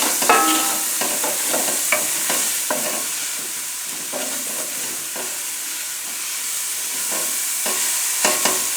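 Wooden spoon stirring mushrooms in a frying pan, with soft scraping strokes and a steady sizzle of cooking underneath, close and moderately loud with no talking.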